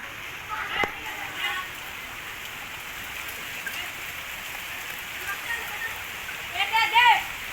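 Heavy rain pours onto a market street as a steady, even hiss with scattered drips, while people's voices come and go faintly in the background.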